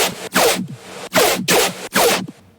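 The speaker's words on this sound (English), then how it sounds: "Your chug / rhythmic bases are your most important." Brostep-style chug bass synth in a dubstep production plays four loud, gritty, rhythmic bursts with short gaps between them, each sweeping downward in a growling, zipper-like rasp.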